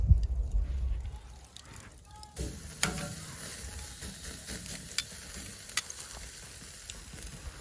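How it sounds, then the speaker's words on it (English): Oyster steak searing on a hot grill grate, a loud burst of sizzle as the meat lands, then a steady, quieter hiss with scattered pops and crackles. "put that oyster steak right on the grates and get that seared up really good"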